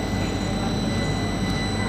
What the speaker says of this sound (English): The train is right here